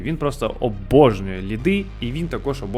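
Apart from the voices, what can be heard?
No everyday noise stands out behind the speech.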